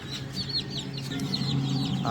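High-pitched peeping of several newly hatched chicks, rapid and overlapping, with steady low background hum and no talking.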